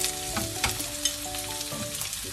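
Onions hit a hot pan already sizzling with garlic and ginger for a beef and vegetable stir fry, giving a steady close frying hiss with a few scraping stirs and no talking.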